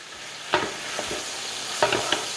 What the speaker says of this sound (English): So I'm just going to go ahead and add the beef now.